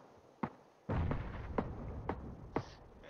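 Gunfire and explosions in the battle royale video game PUBG during a squad match: a handful of sharp, separate cracks and thuds roughly half a second apart, fairly distant, over a steady rumbling background.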